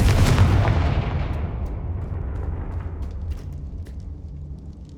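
A Confringo spell blast in the video game Hogwarts Legacy: one loud, booming explosion at the start whose rumble slowly decays over several seconds, with faint game effects scattered above it.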